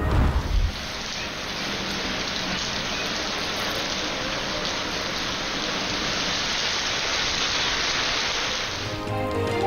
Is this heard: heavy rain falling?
yes